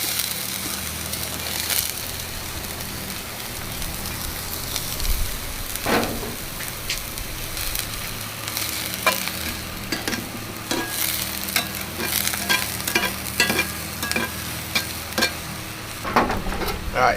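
Vegetables fry in oil in a pan with a steady, close sizzle, broken by scraping and stirring clatters, more often toward the end.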